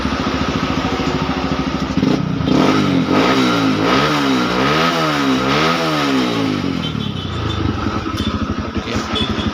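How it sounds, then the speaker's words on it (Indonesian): A Honda CRF150 motorcycle engine starts and idles, its steady chugging rising through a few revving swells before settling back to a close, loud idle. "langsung hidup motornya"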